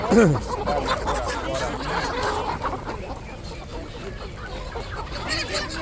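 Roosters and hens cluck and crow at a Polish poultry market in Przytyk, a loud call up front followed by ongoing clucking mixed with a crowd and people talking nearby.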